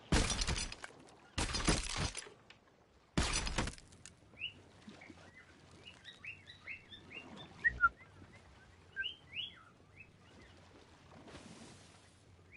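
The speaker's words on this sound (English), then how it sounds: "your birds think my voice is sexy. I mean, they're always whistling when they hear me talking" Small chirping bird calls scattered through a Sea of Thieves pirate ship scene, following several loud crashing bursts at the start; the tweets are light, high and intermittent, at moderate distance.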